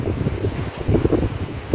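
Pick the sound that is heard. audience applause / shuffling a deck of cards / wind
wind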